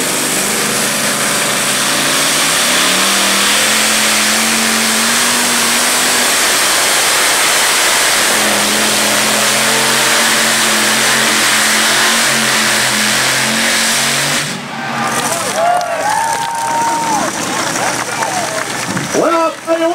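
A pulling tractor with two front engines feeding a common gearbox roars at high revs in the 7500 lb class at a tractor pull, loud and sustained, then drops off as crowd noise and a voice come through.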